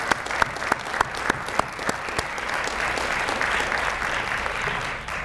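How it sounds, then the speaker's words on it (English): Seminar audience clapping in a round of applause, a dense steady patter of many hands with a few sharper individual claps standing out near the start, filling the room for several seconds. "Let's give him a round of applause."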